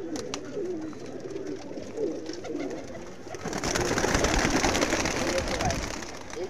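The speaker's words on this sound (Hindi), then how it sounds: "चंदू जल्दी से, ये देख लो गाइस, ये वाला कबूतर है।" A pigeon coos softly, then gives way to a loud, rushing flurry of noise, like flapping wings close by.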